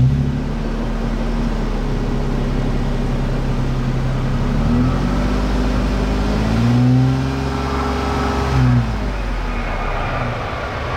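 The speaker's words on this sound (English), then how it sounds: "It's a cat-back exhaust with the 2020 TRD Pro." A 2020 Toyota 4Runner TRD Pro with a cat-back exhaust idles with a deep rumble, then revs up sharply twice, each burst climbing and falling back to idle.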